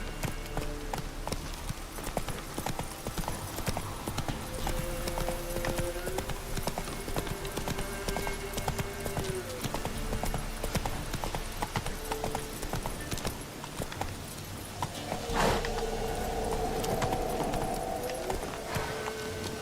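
Geralt's horse Roach gallops in The Witcher video game, a fast continuous clip-clop of hooves with occasional snorts and a brief whinny near the end, the hoofbeats close and steady throughout.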